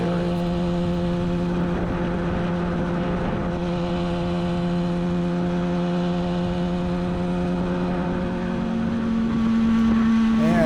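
A 1967 Yamaha YL1-E Twin Jet 100 two-stroke motorcycle climbs a steep hill in third gear, its engine wound up to a steady, buzzing, high-revving drone that holds for the whole stretch and rises slightly near the end.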